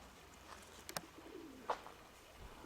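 A pigeon gives a couple of soft coos with faint bird calls, quiet and somewhat distant against a hushed outdoor background.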